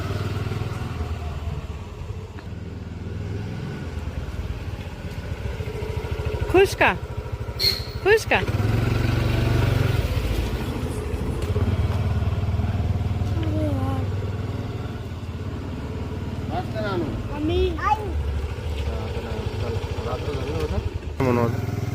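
A motorcycle ridden at night gives a steady low engine hum and putter throughout, fairly close, while people talk over it with a few sharp cries.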